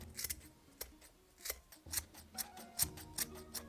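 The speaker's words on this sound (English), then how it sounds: "Cut a bunch of hemp rope." Scissors snipping through hemp rope to make grass tufts for a fantasy diorama; a run of crisp, close, quiet cuts in an uneven rhythm with no talking.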